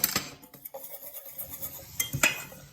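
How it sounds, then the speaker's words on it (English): Dry ingredients for whole grain pumpkin pancakes get whisked into batter in a bowl, with quick clinking and scraping strokes of a whisk against the sides, close and moderately quiet, in uneven bursts. "So I need to whisk that in too."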